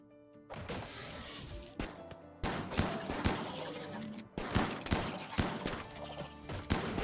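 Shotguns fire in a RimWorld battle, sounding as a dense series of sharp bangs and thuds in irregular clusters, loud and close, with occasional brief gaps between volleys.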